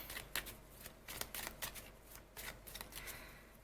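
Tarot cards shuffled by hand during a reading: soft, papery riffling bursts come in irregular clusters, close and fairly quiet, with no voices.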